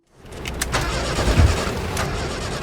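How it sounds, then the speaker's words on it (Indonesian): A car engine stalls and fails to start on the road: a mechanical cranking and rumbling that rises from silence and holds at a moderately loud level, with a few sharp clicks and no voices. "Di tengah jalan, mobil Melanie malah mogok"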